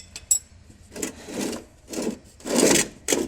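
An oil drain bolt being worked loose on a Mazda3, heard as several short scraping, ratcheting bursts of metal on metal, close up and separated by brief pauses.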